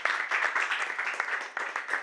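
Studio audience applause on an Italian sports talk show, a short burst of brisk, fairly close clapping from a small group, steady throughout.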